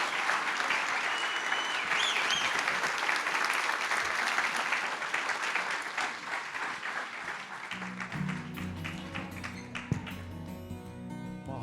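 Sustained applause from a standing audience at a Native Hawaiian convention panel, dense and steady for most of the clip, then thinning near the end as musical tones come up beneath it.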